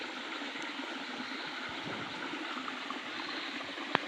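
A rain-swollen stream after a heavy downpour rushes in a steady, broad wash of flowing water, close and even throughout, with a faint click near the end and no voices.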